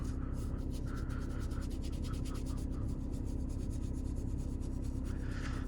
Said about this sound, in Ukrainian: Тепер беремо щіточку і добре проходимось по шву.